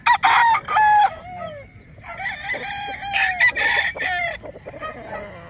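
A Kanawayan gamefowl rooster crows loudly and close, giving several crows separated by short pauses, with some clucking in between.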